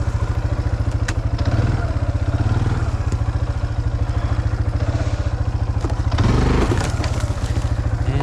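Kawasaki Bayou 250 ATV engine running steadily while crushing and crackling through frozen bushes, with a loud burst of branch-breaking clatter and revving near the end.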